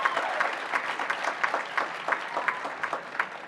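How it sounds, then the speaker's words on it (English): Another round of applause from the crowd at the grand opening of the Walter Soboleff Building in Juneau, Alaska: steady clapping with distinct individual claps standing out, fairly close and unbroken by speech. "How about another round of applause for Rosita?"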